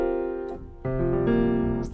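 A dominant seventh sus fourth chord, the so-called weather channel chord, played on a synth in a home production session, sustained and close, with a brief change in voicing partway through and no talking.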